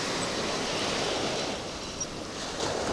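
Steady rushing ocean surf from a Gulf Coast fishing video game fills the scene in a constant, loud wash of waves with no voices.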